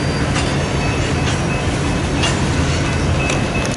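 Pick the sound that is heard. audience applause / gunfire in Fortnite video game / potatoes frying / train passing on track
train passing on track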